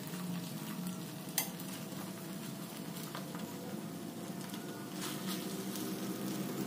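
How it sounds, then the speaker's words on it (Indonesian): Beef teriyaki fries over high heat and is flipped, with a steady close sizzle throughout. One sharp tap of a utensil sounds early, and the frying hiss swells slightly near the end. "Boleh dibesarkan apinya sebentar sambil dibolak-balik supaya matang merata."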